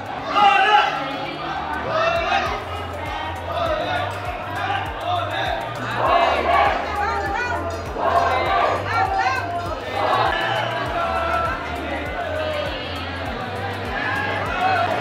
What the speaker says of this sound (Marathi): इथं बघू शकता किती गर्दी आहे मंदिराच्या बाहेर